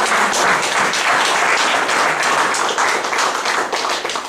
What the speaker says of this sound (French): Est-ce que nous pouvons acclamer le Seigneur s'il vous plaît?